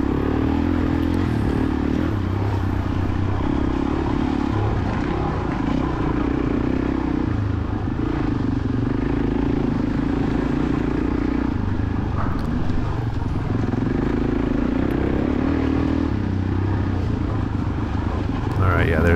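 A Kawasaki 450 motocross bike racing in a senior C class cross-country event at The Ridge, its engine droning steadily and loud among other bikes, with a voice talking over it throughout.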